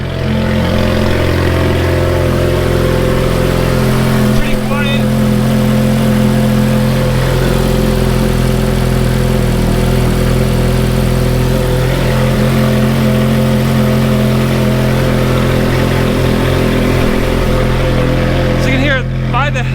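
A Ferrari F430 engine with sound exhaust headers idles steadily with a low, even rumble throughout, fairly quiet and smooth, with someone talking over it.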